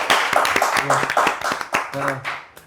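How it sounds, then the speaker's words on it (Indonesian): Clapping for Felix, a talk-show guest who has sat the civil-servant exam four times, as a few close hands strike in uneven bursts with talking mixed in throughout. "boleh kasih tepuk tangan"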